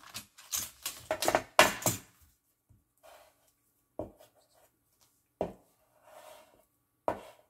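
Foam tape being cut at the one-inch mark: a busy cluster of crisp cutting and handling noises, then three isolated sharp snips spaced a second or so apart, close and fairly quiet.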